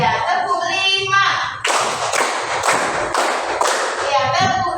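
Several crisp, close hand claps in a counting clap game, coming in quick bursts, with voices talking before and after.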